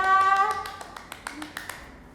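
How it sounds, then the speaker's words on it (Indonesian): A group of children clapping their hands during a junior Sunday school session, a few scattered quick claps rising over a fading sustained tone and then thinning out to silence. "Kasih tepuk tangan nih buat Tuhan kita."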